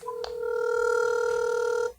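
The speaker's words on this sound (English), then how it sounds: "you can definitely hear that it's calling, so the speaker is really nice" A steady electronic ringback tone plays from the small speaker of an H30 military smartwatch for an outgoing call. One clean tone holds for nearly two seconds after a brief click, fairly loud and with no voices over it.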